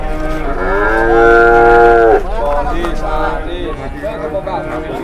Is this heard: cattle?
yes